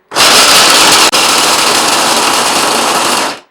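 A Vitek VT 7019 food chopper runs on its first speed, giving a loud, steady whirring motor roar with a brief dropout partway through before it spins down at the end.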